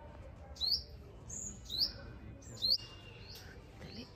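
Birds calling from trees in a village in Nadia, near Madanpur, three clear high chirps spaced about a second apart over a quiet background.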